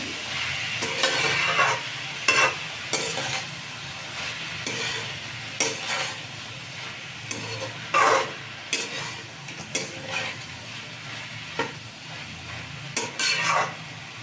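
Watermelon peel curry is stirred in a pan over a low sizzle, with a spatula clinking and scraping against the metal in irregular bursts, close by and with no talking.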